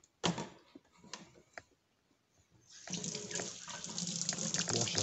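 A kitchen tap is turned on and water runs into a sink as hands are washed, a close, steady splashing rush following a few knocks and clatters at the start.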